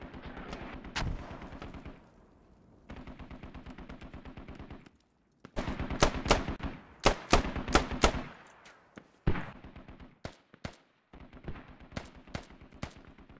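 Machine gun fire in the video game Squad, rattling off in several long, rapid bursts separated by brief pauses, loud and sharp, with heavier single reports mixed in toward the end.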